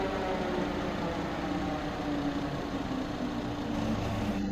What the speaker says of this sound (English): we then proceed to disengage the clutch, which allows the engine to freely and naturally coast back down to its resting idle speed